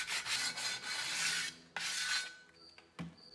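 Abrasive rasping of sandpaper on a flat block scrubbed by hand along the outer lip of an aluminum alloy wheel, in long steady strokes with brief pauses, close and fairly quiet.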